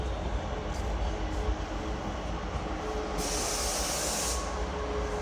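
A TransPennine Express train passes through Carlisle with a broad steady rumble and hiss, a brighter high-pitched wheel tone rising midway, heard from nearby.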